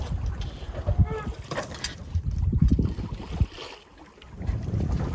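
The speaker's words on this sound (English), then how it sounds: "we are sailing slowly the wrong direction" A sailboat sails slowly under its jib in gusty wind. Rushing wind buffets the microphone over soft water wash against the hull, with faint voices at times.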